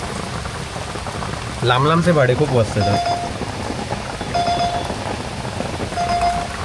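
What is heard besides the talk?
heavy rain falling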